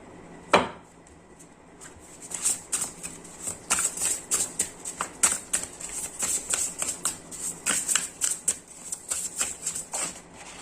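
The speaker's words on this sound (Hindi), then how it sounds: "ये कार्ड्स मैं यहाँ पे रख देता हूँ, और कुछ कार्ड्स देख लेते हैं" Tarot cards being handled and laid out on a surface, with a sharp snap near the start followed by a steady run of quick, close card flicks, slaps and rustles.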